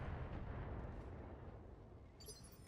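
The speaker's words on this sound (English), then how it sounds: "We should have a better chance to hit with the PPC and the LRM-5. Let's go ahead and fire those off." A BattleTech mech fires its PPC and LRM-5 weapons, a dense, loud, rumbling barrage of booms that rolls on throughout, with a brighter crackle near the end.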